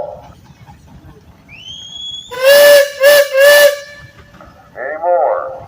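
A steam engine whistle at a steam show parade, giving three loud, clear shrieking blasts in quick succession after a short rising squeal, with hissing steam around it.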